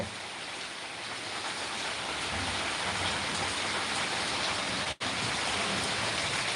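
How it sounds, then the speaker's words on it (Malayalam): Steady, dense rain pours down without a break, a loud continuous hiss with a momentary dropout near the end. "എന്താ മഴ"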